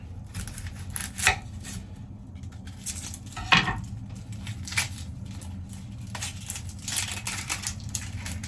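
A knife chops an onion on a cutting board at a winter campsite, making irregular, fairly close taps and knocks with short pauses between strokes.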